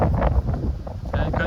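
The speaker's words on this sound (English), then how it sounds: "See here, it's quite windy today" Gusty wind buffets the microphone during a walk on Dartmoor near Venford Falls, a low rumbling roar that surges and dips with uneven hissy swells.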